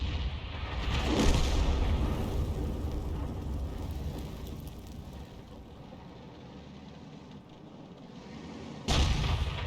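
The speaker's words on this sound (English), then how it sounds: "That was the actual shell, the 203mm shell. That's what she's firing." Heavy artillery fire from an M55 self-propelled gun launching a 203mm shell in a tank video game: a deep, loud rumbling boom that rolls on, with a sharp fresh blast near the end.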